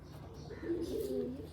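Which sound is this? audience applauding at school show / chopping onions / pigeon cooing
pigeon cooing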